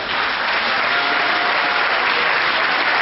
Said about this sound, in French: Je voudrais vraiment aussi, tout d'abord, que nous puissions acclamer le Seigneur.